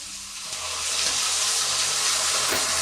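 Water poured into a pot of soaking vegan Vietnamese congee, a steady, close, rushing splash that builds and holds for a few seconds, with a brief clunk near the end and no voices.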